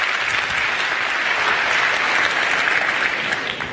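An audience at a TEDx talk claps loudly in a dense, continuous wash of applause lasting a few seconds, then starts to taper off at the end.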